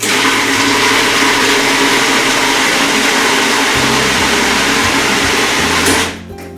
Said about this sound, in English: We'll just mix this up in the food processor.